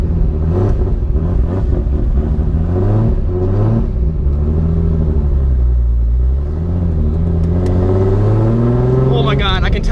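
A self-built Nissan 240SX S14 with an RB26/30 engine accelerates hard on its first drive, its loud engine note climbing steadily in pitch with a deep rumble, while the excited driver talks and exclaims over it throughout.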